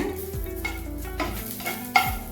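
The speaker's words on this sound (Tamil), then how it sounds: "பூண்டு வதக்கலாம். ஒரு 4-5 பல் போட்டுருக்குறேனுங்க. நல்லா சிவக்க வதக்கணும்." Four or five crushed garlic cloves frying in a little oil, a close, bright sizzle with a few stirring scrapes and a sharp clink toward the end.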